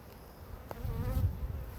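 Honey bees buzz in an opened hive around a frame of fresh nectar, a low, steady drone that swells and stays close after a brief knock.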